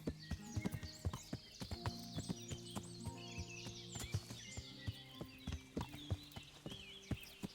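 Horse hooves clip-clop at a steady walking pace in Kingdom Come: Deliverance, crisp rhythmic strikes over a soft bed of birdsong and a low hum, moderately close and fairly quiet.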